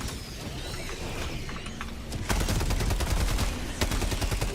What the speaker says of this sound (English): Drop an artillery right there.